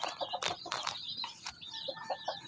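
Backyard chickens, a 3-month-old native cross Brahma flock, clucking and calling in short overlapping bursts, fairly close and steady, with no talking.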